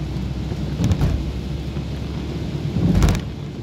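Steady rain pours down at night in Maceió, a constant broadband wash with low rumbles of thunder swelling twice, once briefly and then more heavily near the end.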